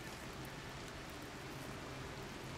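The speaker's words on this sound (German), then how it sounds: "Was ist denn das für ein Regen" Steady, faint rain hisses evenly in the video game RimWorld, a dense wash of pattering drops with no other sounds standing out.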